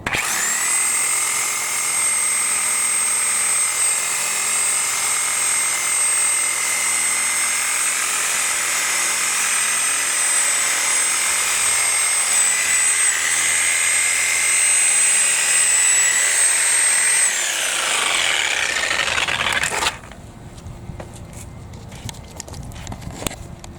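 Bosch reciprocating saw with a 12-inch blade cutting through a tree stump, a loud, steady high-pitched buzzing whine held for about eighteen seconds before the motor winds down and stops.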